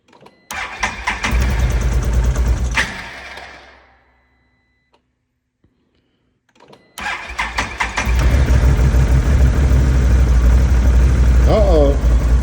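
A diesel-contaminated ATV engine cranks and catches, running roughly for a couple of seconds before dying, then after a short silence restarts and settles into a loud, steady run close by.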